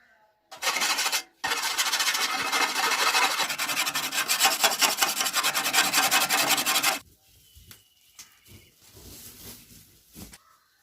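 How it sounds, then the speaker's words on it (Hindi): Dull maize fodder cutter blades being sharpened, a loud steady rasping, filing scrape that runs continuously for several seconds, then stops, leaving faint scattered knocks and handling noises. "मक्के की छुरियां काफ़ी कुंद हो चुकी थी। पहले इनको तेज़ करते हैं"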